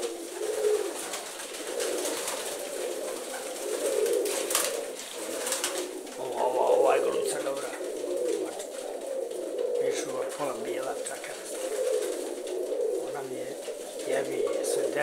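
Tumbler pigeons cooing repeatedly in a loft, low soft coos recurring throughout under a steady background murmur, with someone talking at times.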